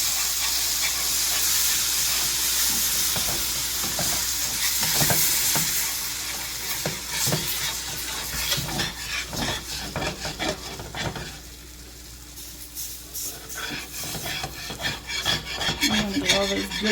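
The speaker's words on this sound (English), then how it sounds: "we're going to deglaze the pan as we're hitting it" Steady, loud sizzle from liquid hitting a hot pan during deglazing, with scraping and stirring strokes repeating throughout and the hiss easing briefly before picking up again.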